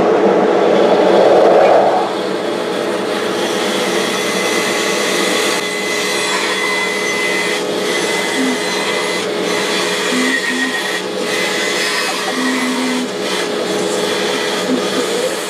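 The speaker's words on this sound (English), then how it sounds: "I'm going to go ahead and drill two holes for woodworm screw, one for each block of wood" Drill press boring holes into wood blocks for a woodworm screw in a woodworking shop: a loud, steady motor whine and grinding drone running continuously, with brief louder bursts of cutting, no talk.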